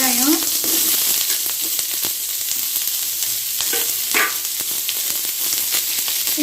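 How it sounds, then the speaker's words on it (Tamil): Onions sizzle and crackle steadily in hot oil in a pan, with a few louder clinks of a utensil stirring partway through. "இது நல்லா வதக்கிக்கலாம்."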